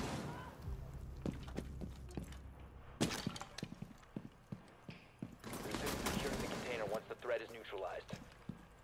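Gunfire punches through walls in the tactical shooter Rainbow Six Siege, heard as scattered sharp shots and short bursts over several seconds, with voices in between.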